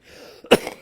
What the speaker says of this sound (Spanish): estoy con un ataque de tos espantoso